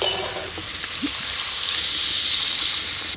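Water added to wild potato curry frying in a pan during village cooking sets off a loud, steady sizzling hiss that carries on throughout, close by and without speech.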